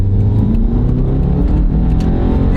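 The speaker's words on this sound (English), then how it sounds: "now you can really hear the wheel bearing" A Subaru car accelerates with a loud engine roar and a humming, whirring drone from a worn wheel bearing running under it, steady and close throughout.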